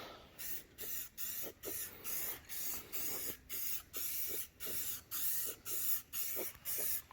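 Truck suspension parts for a Duramax rebuild being spray painted with high heat silver paint: a close, steady series of short hissing aerosol bursts in a regular rhythm, with no talking.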